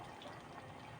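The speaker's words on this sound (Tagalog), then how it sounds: "Lalagyan po natin yan ng kalahating basong tubig." Water splashes and trickles softly into a cooking pot of Filipino pinakbet vegetable stew, a faint, brief pour with a gentle liquid gurgle and nobody speaking.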